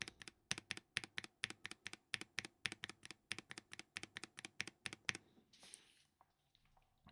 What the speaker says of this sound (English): this is what they sound like on the keyboard.